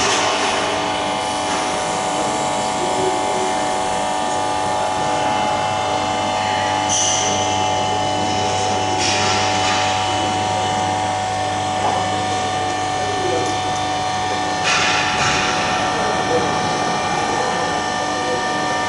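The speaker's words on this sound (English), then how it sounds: "This is a full-scale model of the undercarriage, so I'll press the start button and we'll record it." A full-scale working model of a Lancaster bomber's undercarriage runs steadily for a long stretch, giving a continuous mechanical hum and whir with a few sharp clicks and clanks along the way, close and fairly loud.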